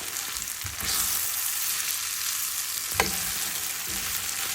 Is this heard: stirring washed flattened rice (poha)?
yes